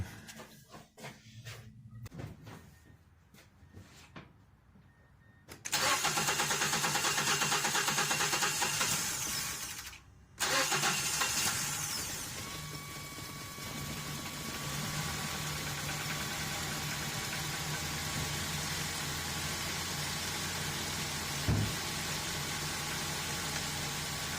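A 2010-13 Mazda 3 engine cranks and catches after quiet shuffling, stumbles briefly, then settles into a steady, even idle heard up close.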